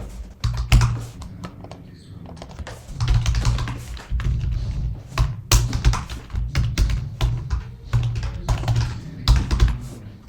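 Bursts of typing on a computer keyboard while filling in name, company, age and salary fields, with quick irregular clusters of close key taps separated by brief pauses and no talk.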